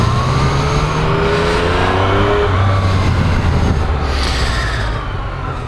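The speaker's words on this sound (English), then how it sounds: "That's Chris on the old FZ8, inline four." Yamaha FZ8 inline-four motorcycle passing close by, its engine note rising and sweeping in pitch as it goes past, loud and continuous before easing slightly at the end.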